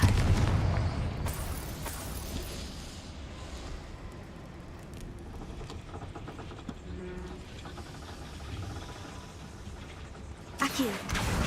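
A Confringo fire spell blasts in Hogwarts Legacy, with a loud broadband burst near the start and another near the end amid dense game sound under steady talking.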